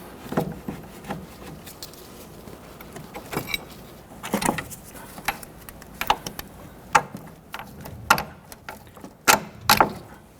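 Metal clicks, ratcheting and clanks from removing the strut-to-knuckle bolts on a 1992-1996 Toyota Camry front suspension, close up, in irregular bursts with no talking.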